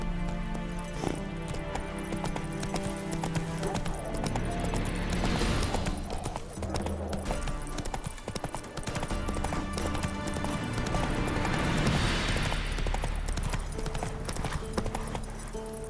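Horse hooves clip-clop at a steady trot in The Witcher 3: Wild Hunt, close and continuous under game music and ambience, with occasional faint voices.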